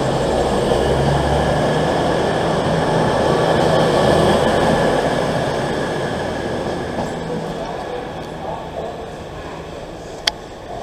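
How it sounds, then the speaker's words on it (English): A train pulls out of Sheffield station bound for London St Pancras, a steady loud rumble of engine and wheels that slowly fades as it departs, with a brief sharp click near the end. "Triple two double oh eight is departing for the 11:29 service to London St Pancras"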